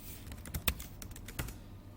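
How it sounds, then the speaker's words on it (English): Password typed on a computer keyboard, a quick burst of light, close key clicks in an uneven rhythm, faint and alone with no talk. "Just typing my password again."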